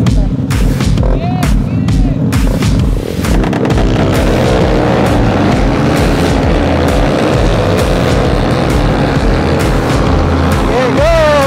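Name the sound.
motorcycles riding together in a group ride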